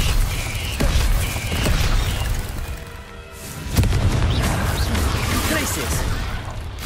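A Confringo explosive spell blast in a Hogwarts video game: deep booms land near the start and again mid-clip over a rumbling background, with a voice speaking.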